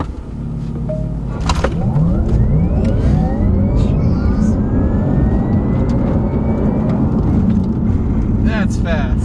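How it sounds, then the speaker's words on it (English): A 2021 Porsche Taycan 4S electric sports car pulls away under launch control, its motor whine sweeping steadily upward in pitch over a loud, continuous rush of road and wind noise, with voices talking in the cabin. "So we're about to feel launch control in this car"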